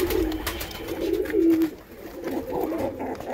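Close domestic pigeons give repeated low, rolling coos, a few distinct warbling phrases with short gaps between, and no voices present.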